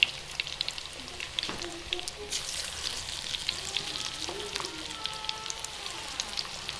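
Cauliflower pakoras frying in oil on a medium-low flame, a steady crackling sizzle like light rain that runs throughout, with occasional stirring scrapes.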